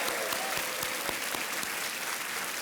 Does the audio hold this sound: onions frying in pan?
no